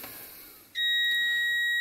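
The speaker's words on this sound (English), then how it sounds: "So just have it set to continuity. It beeps usually." A multimeter set to continuity gives a steady, clear electronic beep when its probes touch a good fuse from a classic Jaguar, starting suddenly partway in and holding to the end.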